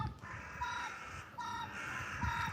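Several birds in trees call repeatedly, a fairly faint chorus of harsh, drawn-out cries recurring at regular intervals over low background noise.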